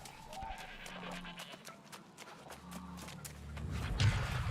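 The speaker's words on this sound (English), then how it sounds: "There's dadgum sheep everywhere." Sheep bleat in the video game New World, short nasal calls scattered over footsteps and clattering in-game ambience, moderately close and mixed with a busy background.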